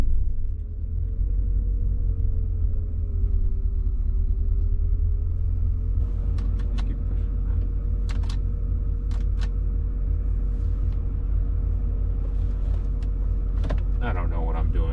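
A 1985 Porsche 928 S Euro engine rumbles steadily from inside the cabin while driving, a deep continuous low drone with a wavering tone, plus scattered clicks and knocks from the interior.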